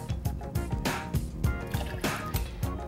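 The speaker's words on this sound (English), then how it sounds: "grab the pomegranate juice and pour about 3 ounces" Pomegranate juice, about 3 ounces, poured into a mixing glass while making a non-alcoholic cocktail, giving a close, steady liquid trickle with repeated gurgling glugs and splashes throughout.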